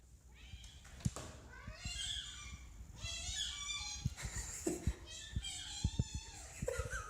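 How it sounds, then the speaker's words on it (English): A cat meows in a string of high, squeaky, toy-like cries, a few close together, with quieter voices faintly in the background. "This cat sounds exactly like a squeaky toy."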